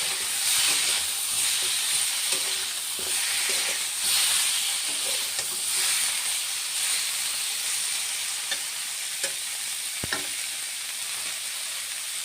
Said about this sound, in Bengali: একটু ভালো করে ভাজা ভাজা করে নেব।